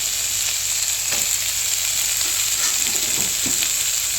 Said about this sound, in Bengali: এই সবজিগুলি ভাজা হয়ে এসেছে। এরপর দিয়ে দিচ্ছি বেগুন ও সিম